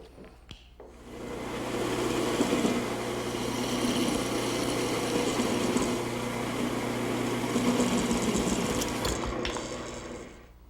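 A wooden mailbox finial being parted off on a spinning lathe with a cutting tool: a close, sustained mechanical whir and chattering scrape lasting about ten seconds, starting after a brief knock and fading at the end, with no talk.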